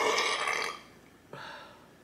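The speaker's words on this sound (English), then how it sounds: "It's my burp." A loud, close burp during a Chinese food mukbang of Singapore noodles, one long rumbling belch followed by a short second burp, with no talking.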